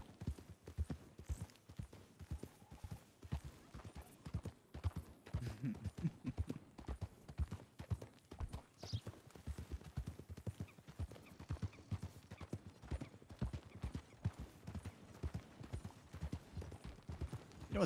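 Steady clip-clop of horse hooves trotting along at an even rhythm in a video game, fairly close, with no talking.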